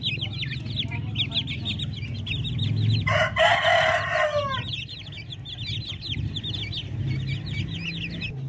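Darag native chickens of a naked neck breed cluck in a busy, steady stream of short calls, with one loud rooster crow rising above the flock for about a second midway, all fairly close.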